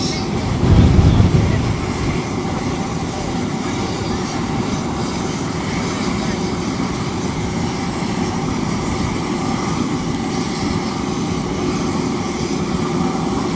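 An Embraer E195-E2 jet on approach and arrival at London City, its engines giving a steady broadband roar that swells briefly near the start and then holds for the rest of the passage.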